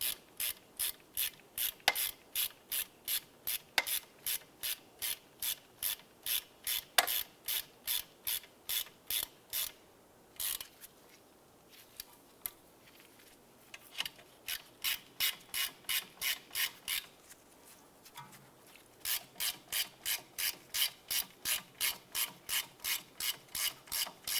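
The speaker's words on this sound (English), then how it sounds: "I'm going to go ahead and snug these bolts down." A ratchet wrench snugging bolts on the rear brake rotor and caliper bracket of a Cadillac DTS, rapid rhythmic clicking in long even bursts with brief pauses, close and clear with no talk.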